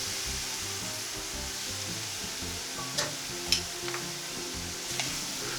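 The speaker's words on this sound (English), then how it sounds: "Once the colour starts to turn a light brown and smoke is starting to appear, carefully add the apples to the pan." Apples go into a hot pan of light-brown, smoking caramel and sizzle steadily, a continuous frying hiss with a few soft clicks and stirring knocks, no talk.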